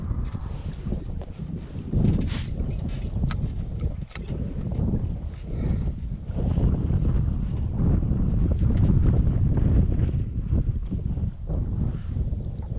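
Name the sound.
wind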